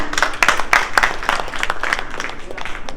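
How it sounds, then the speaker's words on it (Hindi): Loud applause from a crowd at a district cooperative bank event in Mirzapur, Uttar Pradesh: dense, steady clapping that fills the whole stretch without a break. "तो इसके लिए एक जोरदार तालियां होनी चाहिए"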